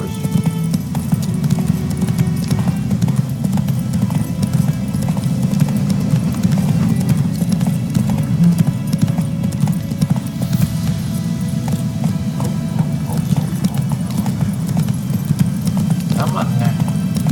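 The horse Roach galloping in The Witcher 3 video game, a loud, steady run of rapid clip-clop hoofbeats with a low rumble beneath, continuous throughout with a voice talking over it.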